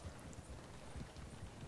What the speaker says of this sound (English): I'm gonna have my horse follow.